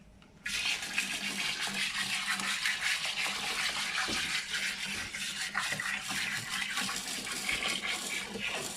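Water pours steadily back into a home fish tank as about two liters are added after cleaning, a continuous close splashing rush that starts abruptly and holds at an even level to the end.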